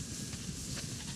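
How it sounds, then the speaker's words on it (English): Sheep bleat in the video game The Last of Us Part II, a short wavering cry held over a faint steady background. "We definitely have way too many sheep."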